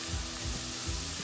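Onions and spices frying in a pan give a continuous, close sizzle with soft low stirring thumps, heard alone for about a second.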